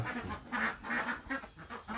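Ducks aged 72 to 74 days, let out of their pen to roam outside, quack close by in repeated overlapping bursts with no talking.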